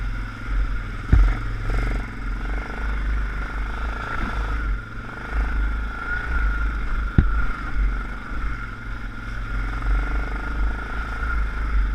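ATV engine running at steady throttle while crawling over rough, rocky terrain, a continuous low rumble with occasional clunks and knocks from the tires meeting rock.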